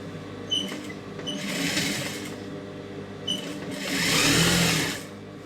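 A sewing machine stitches a rolled hem on a silk pavadai skirt in two bursts of whirring, each rising and fading, separated by a short pause with faint clicks.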